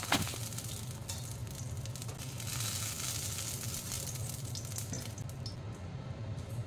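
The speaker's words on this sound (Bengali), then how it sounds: "বেগুনগুলি ভাজা হয়ে গেছে, এবার আমি তুলে নেব।" Eggplant pieces frying in hot oil for a Bengali shukto: a steady, dense sizzle that runs on without pause.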